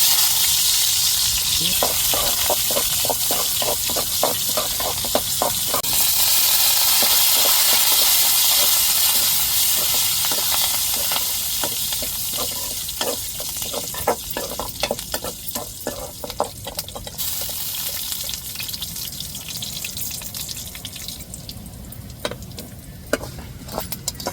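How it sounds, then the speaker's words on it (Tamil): Onion fries in a hot pan for a crab curry, a loud, steady sizzle and hiss with repeated scraping stirs of a spoon against the pan, close up and without talk. "இப்போ வெங்காயம் சேர்த்துக்கிடுவோம்"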